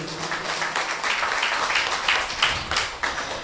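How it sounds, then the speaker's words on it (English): An audience at a nightly Bhagavad Gita lecture gathering breaks into applause, a full, close wash of clapping with a few louder individual claps. "Can we give them a round of applause, everybody?"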